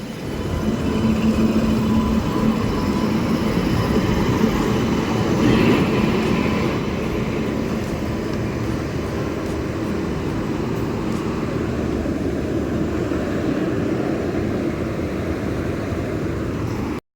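A long train arriving at a station rumbles steadily nearby, its continuous low roar and rattling wheels filling the whole stretch without much change.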